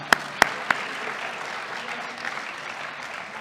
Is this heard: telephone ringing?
no